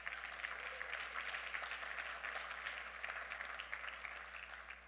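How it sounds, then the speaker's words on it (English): Steady applause from a welcoming audience at an SBA awards talk, dense and even clapping filling the room at moderate distance with no voices over it. "Give him a round of applause."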